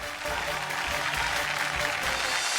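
An audience on a Marathi TV show breaks into strong applause, a dense steady clapping that carries on throughout.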